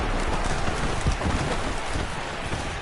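Steady rain pours over an open football stadium during a Colts game, a dense, even hiss of drops filling the whole stretch with no voices on top.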